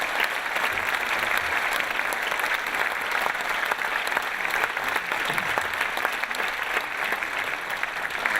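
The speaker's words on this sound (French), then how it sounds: "Donc je vous demande de les applaudir." A large audience applauds police and gendarmerie at a mayor's New Year's greetings ceremony in 2015, steady dense clapping filling the hall without a break and without voices.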